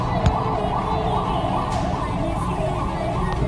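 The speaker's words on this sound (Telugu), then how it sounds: "అంబులెన్స్ వెయిట్ చేస్తుంది." An ambulance siren wails through a full traffic jam at a signal in Ameerpet, loud and continuous over the steady rumble of idling traffic.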